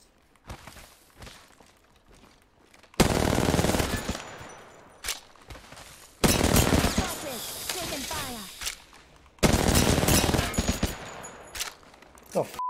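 Bursts of rapid automatic gunfire in the battle-royale shooter Apex Legends, three loud sustained volleys separated by quieter stretches of lighter shots and movement, with a voice briefly speaking.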